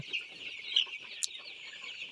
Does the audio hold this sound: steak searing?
no